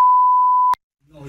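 A single loud, steady electronic alarm tone sounds for about three quarters of a second, cuts off sharply, and is followed by a short silence before a voice begins speaking.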